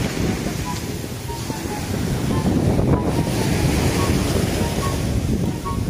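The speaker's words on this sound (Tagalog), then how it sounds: "Oh, lakas ng alon." Loud, constant surf roars up close with heavy wind buffeting the microphone, a dense wash of crashing ocean waves.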